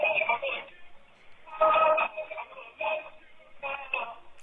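A song plays through a cheap cell phone speaker, its thin, tinny sound with vocals coming and going in bursts.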